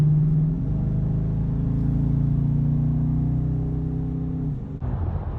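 A car engine in sport mode drones with a steady, deep rumble and a sustained low tone while cruising, then shifts and drops off near the end, heard from inside the cabin without talk.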